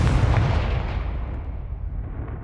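Confringo fire spell explosion from Hogwarts Legacy, a loud, close, deep blast with a heavy low rumble that slowly fades and darkens over a couple of seconds, with no voices.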